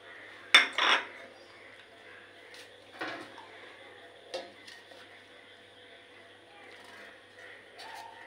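A metal lid clatters onto a cooking pot of kacchi biryani in a home kitchen, a sharp clang followed by a few lighter knocks and scrapes of kitchenware, fairly close, with no talk.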